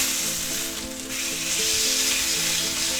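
Sous vide pork chops sear in a hot pan with a steady, loud sizzle and frying crackle that runs throughout, close by, with no voices.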